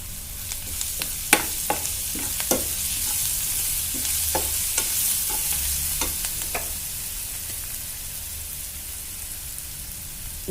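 Beetroot palya with ginger-garlic paste sizzles steadily in a pan while a utensil stirs and scrapes in repeated irregular clacks, close and clear with no voices.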